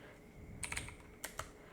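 Two short bursts of quick, light keystrokes on a computer keyboard while typing into a text field in Roblox Studio, close and quiet with no talk.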